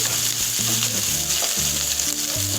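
Onions frying in oil in a pan for egg biryani, a steady dense sizzle running throughout with faint stirring knocks, close and continuous, no voices.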